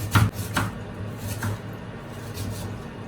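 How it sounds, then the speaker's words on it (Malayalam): Several crisp knife strokes cutting through food on a board, a few quick chops at first, then sparser cuts against a low hum. "ഇത് നമ്മൾ നൈസിന് കട്ട് ചെയ്യും"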